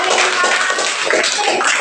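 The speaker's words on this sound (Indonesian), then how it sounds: "Tepuk tangan untuk kelompok 3 dan" A classroom of students clapping for a presenting group, a dense, steady patter of many hands filling the whole stretch at close range.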